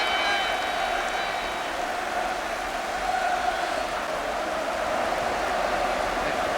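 The crowd at Wembley Stadium applauds a player during the 1982 FA Cup Final replay, Spurs against QPR, a steady distant wash of clapping and murmur heard faintly throughout.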